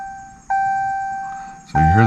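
Indicator bell in a Ram pickup with a Cummins 6.7 diesel engine signalling that the fuel pump has started: two clear, sustained electronic chimes struck about a second apart, loud and close inside the cab, each ringing on and slowly fading.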